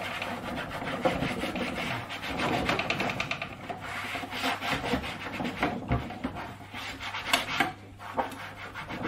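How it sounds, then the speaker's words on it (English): A magic eraser rubs back and forth over the lower plastic case of a Commodore C64, making close, continuous squeaky scrubbing strokes in an irregular rhythm for several seconds. No one speaks. "For this part we use a magic eraser."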